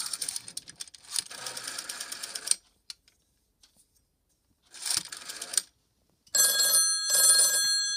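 A Western Electric 302 telephone dials through a PBX, with buzzing, ringing tone bursts broken by short gaps and scattered clicks.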